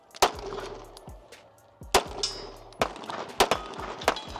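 A Glock 19 pistol is fired at a shooting range, giving several sharp, close reports spaced unevenly about a second apart, each followed by a short metallic ring.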